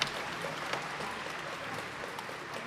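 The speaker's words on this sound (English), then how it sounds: "Thank you for your applause." A large audience at a Baidu AI developer conference claps steadily, a soft even patter of many hands heard from a distance without any voices.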